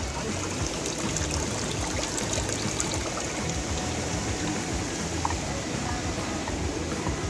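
Stream water flowing over rocks at Hewainna Ella, a constant broadband rush and trickle, close and steady throughout with no pauses.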